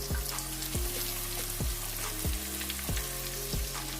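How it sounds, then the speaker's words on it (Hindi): Onions sizzle as they are added to hot oil for baingan masala, a steady close frying hiss broken by a few sharp clattering stirs of a spoon against the pan, with no talking. "तो अब हम इसमें जो प्याज वो ऐड कर देंगे"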